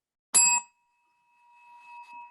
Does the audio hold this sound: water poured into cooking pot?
no